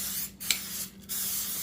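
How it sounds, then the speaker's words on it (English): Two short hissing bursts of non-stick cooking spray into a cast iron skillet before mixing cornbread, close and crisp with a pause between them, no talking. "Non-stick cooking spray."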